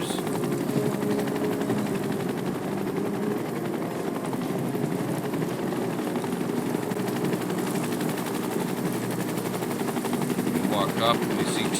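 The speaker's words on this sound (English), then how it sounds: "We see the Shinra helicopters." Shinra helicopters in Final Fantasy VII Rebirth thrum steadily throughout, a dense continuous rotor drone with faint crackling bursts like distant gunfire, mixed under a broad game soundscape.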